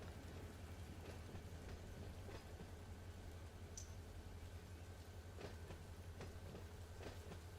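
A CSX freight train in the Run8 simulator rolls slowly toward a stop under braking, a faint, continuous low rumble with occasional metallic clicks and squeaks, no voices.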